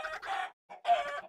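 Chickens clucking in Minecraft Bedrock on an automatic chicken farm, two short, close bursts of clucks separated by a brief pause.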